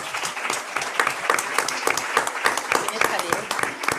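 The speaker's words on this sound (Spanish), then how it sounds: "Un aplauso." Applause from a conference audience, dense steady clapping at close range that carries on throughout, with some voices mixed in.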